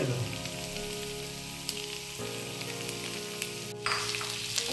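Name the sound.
chicken cooking in a pan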